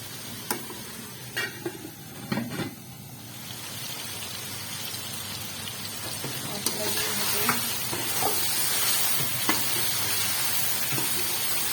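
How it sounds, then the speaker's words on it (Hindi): Chicken frying in a pan for biryani gives a steady, close sizzle and hiss, with a few clinks and scrapes of stirring near the start. "चिकन जो है वो फ्राई हो रहा है"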